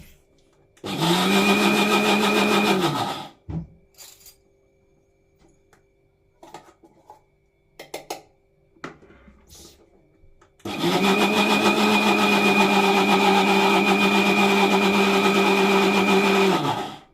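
A mixer grinder grinds rice dry with no water in two loud, steady bursts, one short and one long, with a pause between them filled with faint clicks and handling noises.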